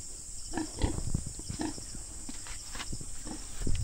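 Low grunting and snorting from a pig on a backyard farm, several short bursts over a steady high-pitched background hiss, fairly close.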